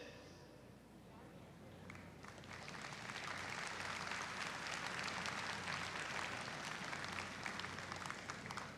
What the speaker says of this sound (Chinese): 让我们再次以热烈的掌声欢迎友邦贵宾的莅临